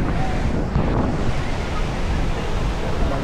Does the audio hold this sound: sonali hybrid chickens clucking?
no